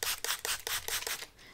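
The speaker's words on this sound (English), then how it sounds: "So I'm gonna take my spray bottle." Spray bottle misting 70% alcohol over pressed makeup powders: six rapid, close, hissing spritzes in an even rhythm, each a short sharp burst.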